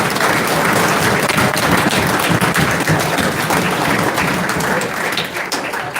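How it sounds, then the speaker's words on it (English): An awards banquet audience gives a big, loud, sustained round of applause for the volunteers serving pizza to the tables, a thick, continuous roar of clapping from start to finish. "Let's have a big round of applause for them."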